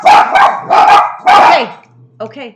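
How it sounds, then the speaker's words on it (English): Dogs bark at home in three loud, close barks in quick succession, followed by a short whimper or yip after a brief pause. "They bark at every little thing, so forgive me for the dog bark."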